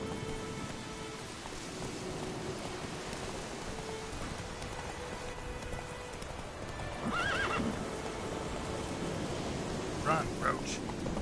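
Roach, a horse in The Witcher 3, gallops with steady clip-clop hooves over a soft patter of rain, then whinnies twice, with a voice speaking briefly.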